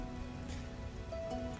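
Steady rain patters on surfaces in a medieval fantasy video game world, a faint, continuous wash with a low hum and a couple of soft tonal notes, no talking.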